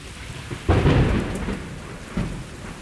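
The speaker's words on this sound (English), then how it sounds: "You could pretend that there's lightning outside your house." A deep rumble of thunder rolls in over steady falling rain, followed by a second, softer rumble.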